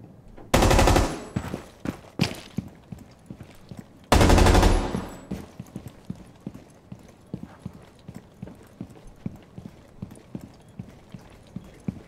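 Zofia's light machine gun fires in Rainbow Six Siege as two loud, dense bursts a few seconds apart, followed by a steady patter of in-game footsteps and small impacts.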